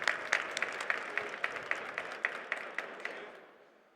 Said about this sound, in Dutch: Mag ik een heel groot applaus voor onze derde finalist van vandaag